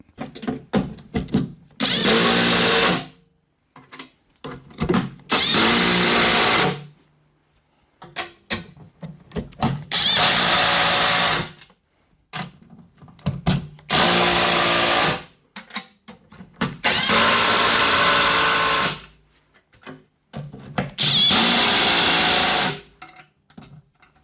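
A power tool tightens the wear bar bolts on a snow plow blade in six loud bursts of whirring impact, each lasting one to two seconds, separated by quiet pauses with small clanks of handling.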